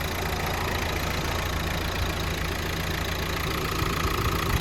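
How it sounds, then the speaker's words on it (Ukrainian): A Renault Megane 81 kW dCi diesel engine idles evenly and continuously up close, a steady mechanical rumble with faint ticking, and no talking. "Сам двигун працює гарно, рівно, ніяких зауважень до нього абсолютно немає."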